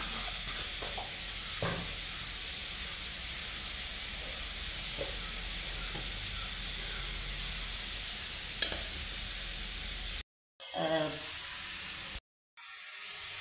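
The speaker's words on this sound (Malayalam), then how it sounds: "ഈ അടുപ്പിലോട്ട് ഉച്ചക്കത്തേക്ക് ഉള്ള തോരൻ വയ്ക്കുകയാണ്" Thoran, a Kerala vegetable stir-fry with curry leaves, green chilli and onion, sizzling steadily in a pan on the stove, a constant close hiss with occasional stirring scrapes, briefly cut by silent gaps near the end.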